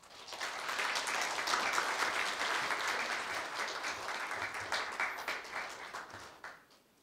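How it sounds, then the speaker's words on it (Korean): Warm audience applause welcoming a retiring staff member at a Korea University staff retirement ceremony, rising quickly to a full, steady round of clapping and then thinning out toward the end. "이상익 차장님을 큰 박수로 맞이하여 주십시오."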